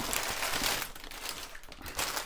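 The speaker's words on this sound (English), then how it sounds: "a plastic bag." A plastic bag crinkles and rustles in a kitchen while snacks and ciders are packed, with bursts of crumpling that fade briefly before starting up again close by.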